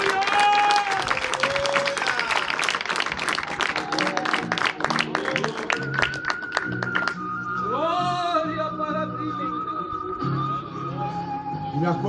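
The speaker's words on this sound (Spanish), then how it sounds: "en esta noche puede aplaudir a Jesús" Congregation applauding in an evangelical church service, steady clapping through much of the passage with voices and tonal sounds, probably music or singing, over it, before the clapping thins out.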